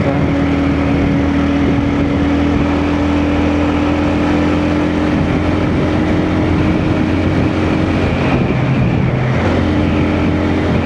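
A 2025 TVS Ronin 225 motorcycle holds a high speed on the road with a constant loud engine drone and heavy wind rush. A slight shift in tone comes near the end, and no voices are heard.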